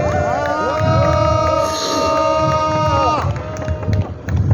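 Outdoor street-rally crowd in Busan cheering and clapping to welcome actor Park Chan-hee on stage, loud and continuous, with a sustained sung or musical tone riding over the noise before the crowd sound breaks up near the end.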